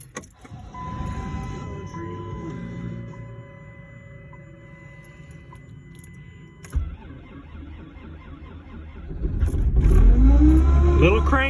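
2005 Dodge Grand Caravan with a 3.3 liter V6 starting cold after sitting overnight unplugged: quiet idle hum and a clunk, then the engine cranks and catches into a loud rising rev near the end.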